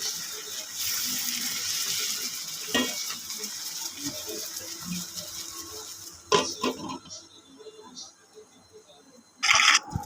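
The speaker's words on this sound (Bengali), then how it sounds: "মাছ ভাজাটা প্রায় আমার হয়ে এসেছে" Hilsa fish frying in a pan, a continuous close sizzle with occasional scraping bursts from turning the pieces, ending in a sharp loud clatter.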